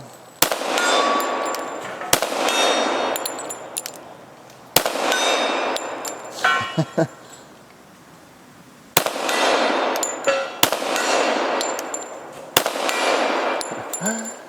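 A .45 pistol fired at steel targets outdoors: about six or seven sharp, loud reports at irregular intervals, each followed by a ringing metallic decay, with quieter gaps between shots.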